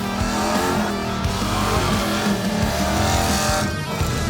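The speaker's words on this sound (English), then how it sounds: "anyone can just drive their car in and then you can do a burnout along this like 100, 200 meters" On Skid Row at Summernats, a car does a burnout, its engine revving hard and loud while the tyres squeal and skid continuously, close by and with no talking.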